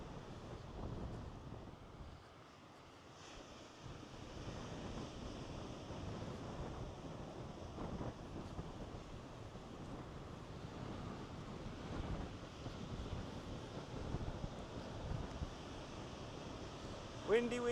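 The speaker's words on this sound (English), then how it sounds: "Windy, windy." Steady wind buffeting the microphone on the Norfolk coast path, a constant low rumbling roar throughout with possible surf in the background, loud and close, with faint speech beneath.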